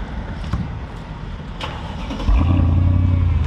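A car fitted with an AMG sport exhaust, for sale at a car dealership, starts and then settles into a loud, steady low rumble after a stretch of quieter background noise.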